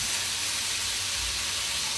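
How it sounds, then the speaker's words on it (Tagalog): Water poured into a hot pan of pancit gives a loud, steady hiss and sizzle of steam that holds evenly throughout, close up and with no talking. "Kasi maglalagay tayo ng tubig."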